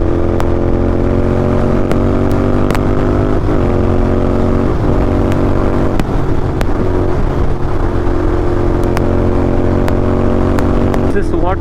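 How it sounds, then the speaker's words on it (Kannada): A Royal Enfield GT650 motorcycle engine drones steadily at high throttle while riding, loud and constant with wind rush throughout and no break in the sound. "ಒಂದು ಸತಿ ನಿಮ್ಮ ಬೈಕ್ ಥ್ರಾಟಲ್ ಫ್ಲಿಪ್ ಮಾಡ್ಕೊಂಡು ಈಚೆ ಬಂದ್ರೆ"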